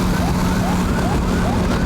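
An ambulance siren wails loudly and close, its rising and falling tone sweeping repeatedly in a steady cycle over a constant engine or road hum.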